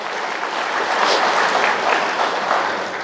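Congregation applause in a church setting for a youth group, steady loud hand clapping from many people, fairly close and sustained for about three seconds.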